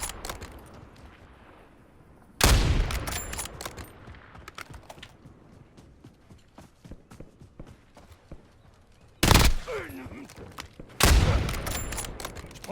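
Gunfire from the video game Warzone, with loud bursts of shots arriving in three clusters over a quieter background of footsteps and game ambience, no talking.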